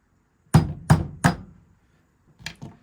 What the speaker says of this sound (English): I'm just going to go in there and hammer it out